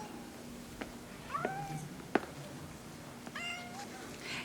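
A cat gives several short, thin meows spread across a few seconds, faint and close in a quiet room, with no talking.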